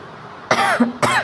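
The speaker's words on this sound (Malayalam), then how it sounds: "എനിക്ക് ചെറിയ ചുമക്കെ വരുന്നുണ്ട് കേട്ടോ" Two sharp, close coughs about half a second apart, heard during a visit to the Chakkulathukavu Pongala temple festival, with quiet background in between.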